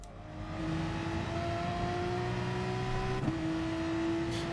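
Porsche Gr3 race car in Gran Turismo at the Autodromo Nazionale circuit, its engine holding a steady loud drone that climbs in pitch, then drops sharply at a quick gear change before climbing again.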